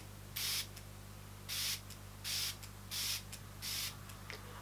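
A facial toner mist bottle sprays five short, sharp hissing bursts at a steady rhythm, close and fairly quiet, with no talking.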